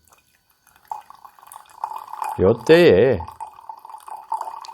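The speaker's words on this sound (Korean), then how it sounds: "다관에서 물소리가 나는 것을" Water from a pitcher trickles into a teapot during a tea meditation, a close liquid pour rising briefly in pitch as the vessel fills, with a calm voice speaking over it.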